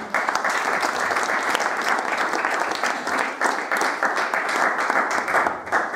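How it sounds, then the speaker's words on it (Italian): Audience applause at an art exhibition event welcomes a guest: sustained, dense clapping from a crowd, loud and even for the full stretch, with no speech over it. "Ecco Giuseppe Pasqualetto, l'applauso per lui ora."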